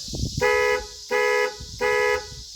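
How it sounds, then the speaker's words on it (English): A Ford crew cab truck's factory keyless entry remote sets off the panic alarm, giving three loud, evenly spaced horn honks nearby with short gaps between them. "Panic works."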